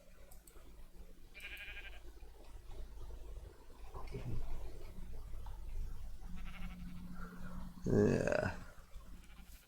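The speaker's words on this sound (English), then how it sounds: "There's the sheep that I want." Sheep in the Minecraft video game bleat a few times, one louder bleat near the end, over game ambience and light clicking, with a voice briefly speaking.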